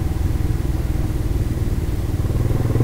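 A motorcycle engine runs steadily on the road toward a market with a 38-tooth sprocket fitted, a continuous low throbbing drone at even loudness and no talking.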